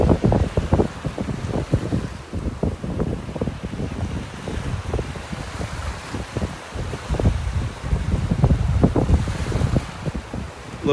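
Ocean surf rolls in on a North Naples, Florida beach, a continuous churning wash of breaking waves mixed with gusty wind buffeting the microphone.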